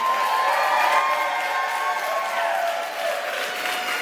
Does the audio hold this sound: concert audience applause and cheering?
yes